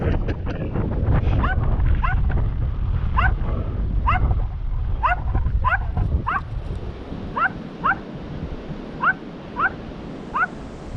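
A dog barks repeatedly in short yips, loud at first over rustling background noise, then spaced-out barks continue more sparsely toward the end.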